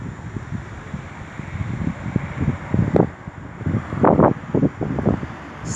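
Spring wind blowing outdoors in cold weather, a steady rushing noise buffeting the microphone with gusty swells and rumbling low thumps throughout.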